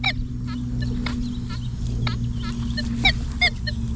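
Metal detectors, a Garrett AT Max with a 5x8 coil alongside Nokta, Minelab and Whites units, give short repeated electronic chirps during a garden unmasking test, sounding over a steady low hum, with two slightly louder chirps near the end.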